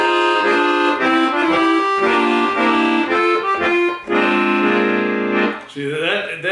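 Accordion melody from the added section of a song, played loud and sustained with rich reedy chords and a shifting phrase near the end, alone without talk.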